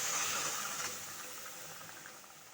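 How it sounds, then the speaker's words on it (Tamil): A cup of water poured onto a cup of jaggery in a cooking vessel gives a soft, steady splashing trickle. It is fairly faint and short, and it eases off gradually with no talking. "அதுலேயே ஒரு கப் அளவுக்கு தண்ணி ஊற்றிக்கோங்க."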